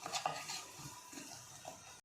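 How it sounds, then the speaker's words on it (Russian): Garlic frying in sunflower oil while being stirred, a faint, hissing sizzle with soft scraping of a utensil, cutting off abruptly at the end. "высыпаем наш чеснок и обжариваем его на подсолнечном масле"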